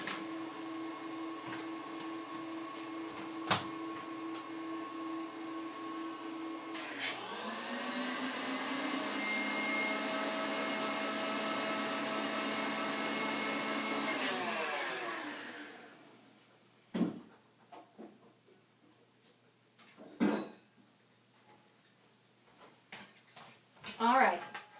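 Stand mixer whipping a marshmallow mixture at medium speed, a steady loud motor whir that rises in pitch partway through and then stops, followed by a few scattered clunks and handling knocks.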